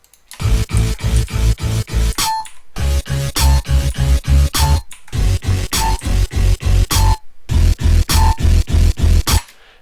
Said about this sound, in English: It's the same 808 layered a whole bunch with a lead.